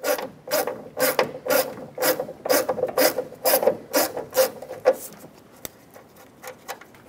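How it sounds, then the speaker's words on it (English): A 10mm socket ratchet unbolts the window motor inside the front left door of a Chevy Express 3500. The pawl clicks in a steady, rapid rhythm close by, with short pauses between strokes. Nobody speaks. "At this point, we can use a 10mm socket and unbolt the motor."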